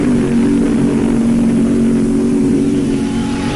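A 1,750-horsepower Hemi drag car in a vintage 1970s drag race roars at full throttle, a loud, steady, unbroken engine blare that holds from start to finish with no voices.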